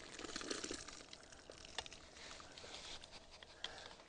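A whitetail deer skull being prepared for a European mount is rinsed under water, a faint, close trickling patter and splashing that runs steadily with small bursts throughout.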